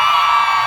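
Crowd at a live outdoor show on Chater Road, Hong Kong, cheering and whooping together in one sustained, loud burst of voices.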